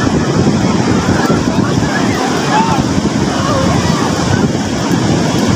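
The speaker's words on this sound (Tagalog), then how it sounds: "Sobrang lalaki ng alon." Large ocean waves crash and surge onto the shore in a continuous loud roar, with wind buffeting the microphone throughout.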